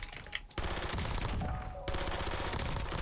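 Carbon SMG firing in a multiplayer shooter video game, a dense rapid burst of automatic gunfire that starts after a short break and rattles on loudly and continuously to the end, with no talk.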